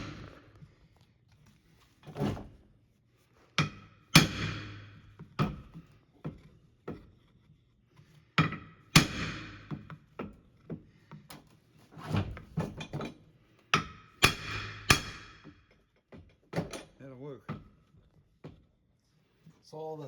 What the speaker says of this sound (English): we're not afraid to use the hammer